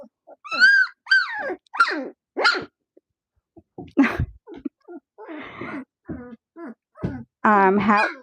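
Young Labradoodle puppies whimper and let out high, thin yips in a string of short, separate cries, close and fairly loud, with small breathy snuffles between them.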